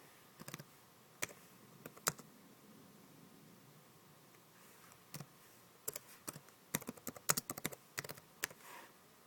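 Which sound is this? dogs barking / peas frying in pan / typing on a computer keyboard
typing on a computer keyboard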